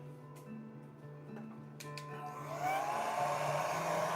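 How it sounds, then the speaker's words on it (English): An old hair dryer switches on to blow-dry a painted Mandalorian figure, a rising whoosh that settles into a loud, steady airy roar over a faint background hum. "give this a quick little blow dry"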